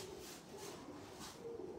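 A pigeon named Bhalu, bred at Ustad Mubashar Khokhar's home, gives soft, faint, low coos that repeat in a slow rolling rhythm over quiet background hiss.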